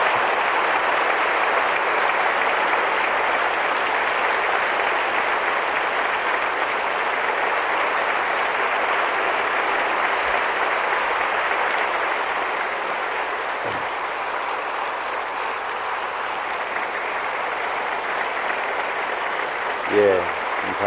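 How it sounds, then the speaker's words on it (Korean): A church congregation applauds during an evening service, a steady wash of clapping that sustains for about twenty seconds at an even level. "우리 모두 박수하겠습니다."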